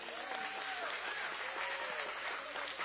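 An audience at a Teacher of the Year awards show applauds the semifinalists with a steady, fairly distant wash of clapping, with faint whoops rising over it.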